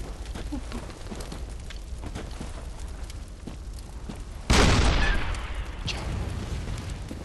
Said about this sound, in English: You fired this cannon, by the way.